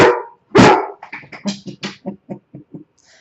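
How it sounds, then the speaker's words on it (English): A dog named Peanut barks loudly and close at someone at the door: two heavy barks, then a run of smaller rapid yips and whines fading out. "Somebody at the door, so Peanut's being my guard dog here."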